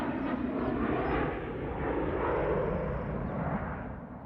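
A jet-like aircraft roar passes through as a steady, broad rumble with a rising then slowly fading swell, close and loud, with no voices, a film sound effect for a flyover above Northridge, California.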